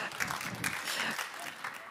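A theatre audience at a German comedy festival applauds a stand-up comedian, dense sustained clapping that swells and fades slightly, with some voices mixed in.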